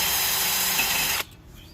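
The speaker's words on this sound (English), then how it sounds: "I reverse the drill to let it throw down" A power drill spinning a brake rotor from a 2011 Camaro SS whirs loudly against the metal with a harsh, hissing spin, then cuts off abruptly, leaving quiet room tone.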